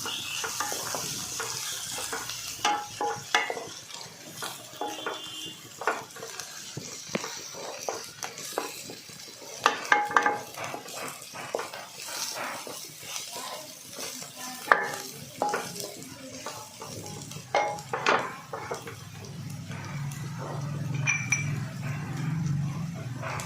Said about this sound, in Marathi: आता यामध्ये सुकं खोबरं बारीक केलेलं घालायचं आहे ते सुद्धा एक मिनिट परतून घ्यायचं आहे